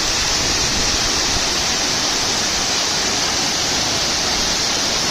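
A loud, steady roar of water falling from a great height at Savatkada waterfall in Rajapur, Konkan, a dense continuous rush filling the whole clip without pause.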